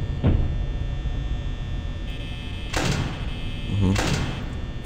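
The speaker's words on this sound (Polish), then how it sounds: "O, Lisek do nas biegnie, ale są drzwi zamknięte." Heavy metal security doors thud shut in the horror game Five Nights at Freddy's, a few dull clunks and slams spaced over several seconds under a steady hum while someone talks.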